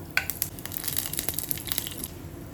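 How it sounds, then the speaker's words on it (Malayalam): Mustard seeds splutter and pop in hot coconut oil with fenugreek, dried red chillies and curry leaves for a tempering, a busy crackle of quick sharp snaps and sizzle, close and fairly quiet. "വെളിച്ചെണ്ണ ഒഴിച്ച് ചൂടാക്കുമ്പോൾ അതിലോട്ട് കടുക് ഇട്ട് കൊടുക്കുന്നുണ്ട്"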